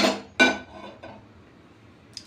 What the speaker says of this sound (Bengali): এইবার আমি ননস্টিক ফ্রাই প্যানটা গ্যাসে বসাবো।